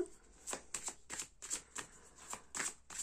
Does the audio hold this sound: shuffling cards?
yes